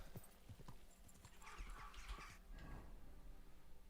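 Horse hooves clopping in the medieval open-world game Kingdom Come: Deliverance 2, a steady run of sharp, fairly close hoofbeats with a brief whinny and a low game ambience beneath, no talking.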